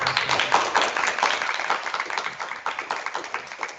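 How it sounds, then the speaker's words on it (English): An audience at a computational design conference keynote claps hard in a quick, dense burst of individual hand claps, fairly near and echoing in a room with poor acoustics. "clap really hard."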